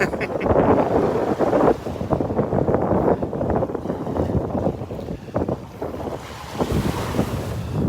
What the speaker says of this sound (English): That wind is picking up. The wind is picking up.